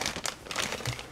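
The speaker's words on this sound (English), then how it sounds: "We have one plastic bag containing all the parts" A plastic bag holding the parts of a model kit for the RDS-1 atomic bomb crinkles up close in a short burst of dense, crackling rustles, with no one talking.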